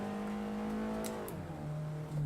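In Assetto Corsa, a sim race car engine drones steadily at high revs, then drops sharply in pitch as the driver lifts off, settling into a lower hum before picking up again at the end; constant and close, no talking.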